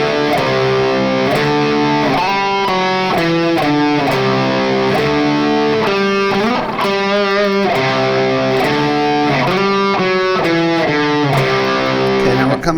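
A loud, gritty electric guitar riff chugs through chord changes from pre-chorus into chorus in a steady driving rhythm, with drums pounding along underneath.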